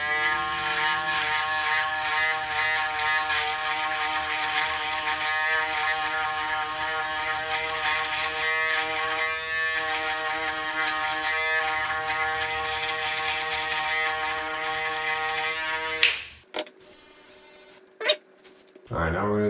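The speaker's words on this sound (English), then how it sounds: "Take your shaver." An electric shaver buzzes steadily and loudly during a haircut for about sixteen seconds, then cuts out abruptly, leaving brief handling clicks and a short final burst.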